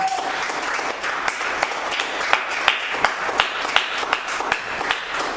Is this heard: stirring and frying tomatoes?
no